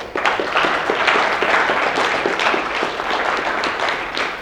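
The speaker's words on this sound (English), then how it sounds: "Give him a big round of applause." A room full of people applauds steadily, dense overlapping claps at close range holding an even level for several seconds with no talk over them.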